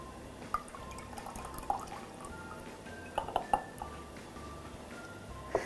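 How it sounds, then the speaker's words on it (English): Cider vinegar is poured into plant-based milk in a glass, giving soft drips and small liquid splashes with a few faint glassy clinks, quiet and close. "we are gonna take our plant-based milk, and to that we are going to add our cider vinegar"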